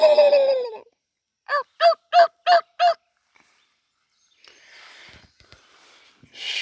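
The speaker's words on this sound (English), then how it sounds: "Let's hear your best gobble." A turkey gobbles in a quick run of five rattling calls outdoors, preceded by a louder drawn-out fowl call and followed by faint rustling and scuffing.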